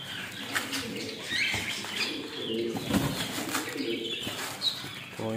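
Pigeons coo softly nearby amid bursts of flapping wings and a few chirps, with no one talking.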